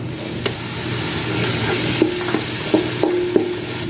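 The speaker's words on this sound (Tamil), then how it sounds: "இப்போ நம்ம அரைச்சி வச்சுருக்கிற இந்த வெங்காயத்தையும் சேர்த்துக்கலாம்" Ground onion paste fries in a pan for fish head curry, a loud close sizzle with several sharp scraping stirs of a spoon, no talk.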